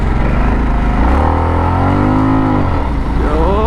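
A 2023 Harley-Davidson Sportster S motorcycle accelerating on a road, its loud engine note rising and falling in pitch through a few gear changes, heard close and continuous.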